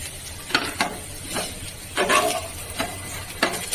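Pieces of green pea cutlet frying in an oil-filled pan, with a steady sizzle broken by repeated scraping strokes as the pieces are stirred and turned, the bursts of activity coming every half second or so.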